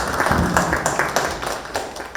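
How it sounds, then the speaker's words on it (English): An audience at a national student research forum applauds presenters, chairs and rapporteurs, a dense, loud wash of many hands clapping together throughout. "give all presenters, chairpersons, and rapporteurs a round of applause once"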